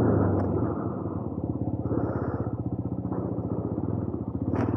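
A TVS Apache RTR 200 4V motorcycle rumbles close by at low speed over a sharp speed breaker, its engine giving a steady pulsing throb that rises briefly near the end.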